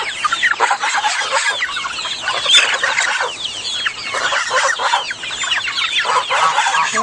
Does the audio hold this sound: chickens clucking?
yes